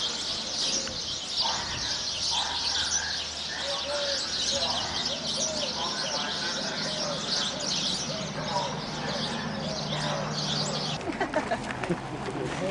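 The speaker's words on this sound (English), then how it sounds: "A lot of birds in this series, obviously." Pigeons coo in repeated soft phrases while smaller birds chirp and tweet steadily around an ancient excavation site in Turkey, with faint voices in the background.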